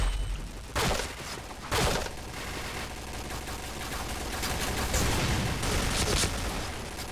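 Rapid automatic HK rifle fire in the video game Point Blank, loud and sustained across the whole stretch, with two especially sharp bursts early on over a constant rattling barrage, no talking.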